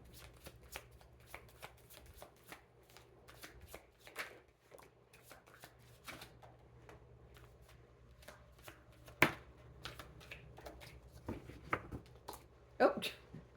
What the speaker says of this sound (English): I'm hearing just one shuffle through.